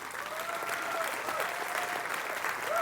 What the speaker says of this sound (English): can we applaud that new thought?